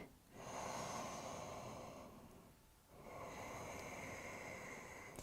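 Slow yoga breathing in downward facing position at home: two long, steady breaths, a drawn-in breath followed by a long airy exhale, close and fairly quiet with no talking.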